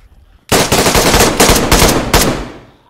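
An AK rifle fires in the DayZ video game, a sudden loud burst of rapid automatic shots after a short quiet moment, the rattle lasting about two seconds before fading.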